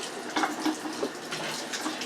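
A kitchen tap runs steadily for hand washing, a soft continuous water rush with faint splashes, close and moderately quiet, no voices.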